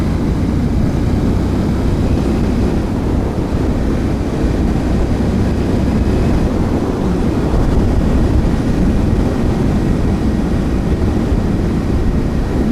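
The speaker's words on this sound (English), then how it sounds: "So that was a fifth gear overtake" Royal Enfield Interceptor 650 motorcycle pulling through an overtake in fifth gear, a loud, continuous low engine drone heavily mixed with wind rush over the microphone, steady throughout with no talking.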